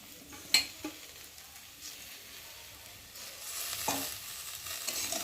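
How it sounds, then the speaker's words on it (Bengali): Rohu fish chop mixture frying in a pan with chopped coriander leaves, a soft steady sizzle with stirring scrapes, a sharp utensil clink near the start and the sizzle swelling louder toward the end. "তো ধনে পাতাটা দিয়ে আবার একটু ভালো করে ভেজে নেবো"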